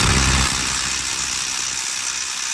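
Impact wrench hammering at a brake caliper bracket bolt on a 2021 Nissan Rogue, a loud, continuous buzzing rattle that holds steady for a couple of seconds without breaking the bolt free.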